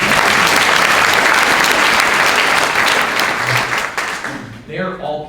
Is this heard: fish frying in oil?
no